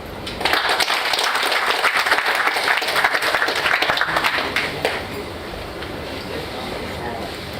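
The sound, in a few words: audience clapping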